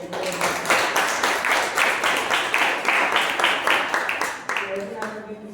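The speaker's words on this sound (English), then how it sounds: "we can applaud Toastmaster Kaushal" A Toastmasters meeting audience claps together in a fast, steady rhythm, the applause close and fairly loud before it thins out near the end.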